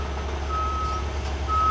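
A flatbed truck's reversing alarm beeps in slow, evenly spaced tones over a low engine idle, fairly faint and steady, during unloading.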